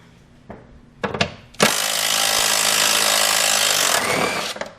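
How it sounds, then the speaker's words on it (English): Power tool loosening 13mm bolts in the engine bay of a Ford 5.4L 3V engine, a few short bursts followed by a loud sustained whir lasting over two seconds, close by, with no talking. "we can go ahead and start taking these bolts out"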